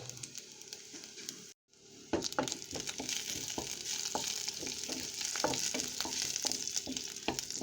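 Onion, garlic and black cumin sizzle in hot oil as a Bengali dal tempering is made, a steady close frying hiss with repeated stirring scrapes, briefly cut off near the start.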